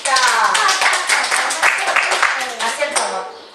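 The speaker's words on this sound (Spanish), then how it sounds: "Un aplauso para la Elvita." A classroom of students breaks into lively applause for a classmate, with dense hand claps lasting a few seconds while a teacher's voice carries over the top.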